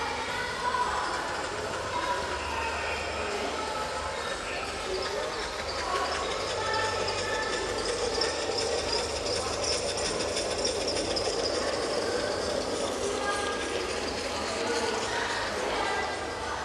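A train running on its track at a museum gives off a steady, loud rumble and rattle that fills the whole stretch, with voices faintly mixed in beneath it.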